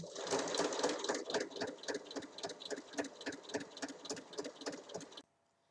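A sewing machine stitches a 5 mm seam on a small berlingot-style coin purse, running as a fast, rhythmic mechanical chatter for about five seconds and then stopping abruptly.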